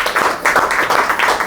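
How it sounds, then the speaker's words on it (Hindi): A church congregation at a Hindi-language worship service in Kalina, Mumbai, claps loudly in a sustained, dense burst of many hands, continuous and near. "जोर से ताली बजाइए।"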